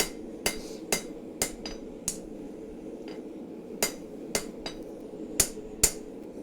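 A hammer strikes metal being forged into a blade, sharp ringing blows landing singly and in loose groups of two or three with short pauses between, close and clear over a low background hum.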